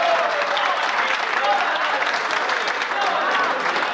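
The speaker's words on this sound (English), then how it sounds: "Don't you love to hear all the people clapping and shouting behind there, Ducky?" A crowd at a candlepin bowling match in Nova Scotia claps and cheers in a dense, steady wave of applause with scattered shouts, loud and close throughout.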